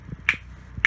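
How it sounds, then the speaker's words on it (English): Two light finger snaps land about half a second apart, crisp and close in an otherwise quiet room. "So here's me snapping lightly."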